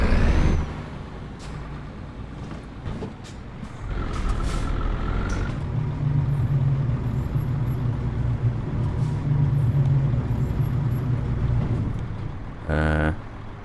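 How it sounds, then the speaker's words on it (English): A truck engine in a video game rumbles steadily, with a hiss of air brakes partway through and a short burst of beeping near the end. "we'll have truck sound now."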